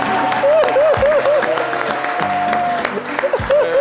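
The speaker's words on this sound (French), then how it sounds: "Je demande qu'on l'applaudisse encore une fois." Studio audience applauding on a French-language TV variety show, a dense wash of clapping that stays loud throughout, with music and a voice running underneath.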